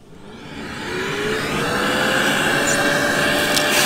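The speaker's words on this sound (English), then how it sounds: "we will just vacuum those holes up" A vacuum cleaner sucks up metal swarf left from drilling holes during a 12V touring wiring install. Its motor starts nearby and climbs within a second to a loud, steady whirring whine that holds to the end.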